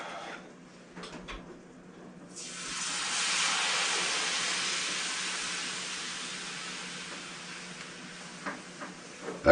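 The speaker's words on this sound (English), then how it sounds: "Okay, so we're going to add all our milk in there" Milk poured into a pan of hot browned flour for gravy sets off a loud, broad sizzling hiss that starts suddenly, then slowly fades as it settles.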